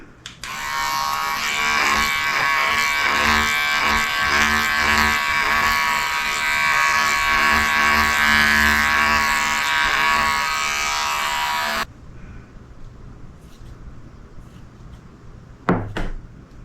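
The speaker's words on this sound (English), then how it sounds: "Then I go in with the clipper and start from up here and go down." Electric pet clipper buzzing steadily while grooming a bichon frise/toy poodle: a close, loud motor whine for about twelve seconds, then it cuts off, leaving quiet room noise and a sharp knock.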